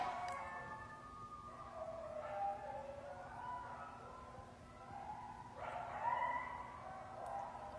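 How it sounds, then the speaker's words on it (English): Neighborhood dogs bark and yip in a scuffle with coyotes at night, with repeated barks and whining cries at moderate distance, rising and falling over several seconds. "I think the coyotes are like fighting the dogs in the neighborhood"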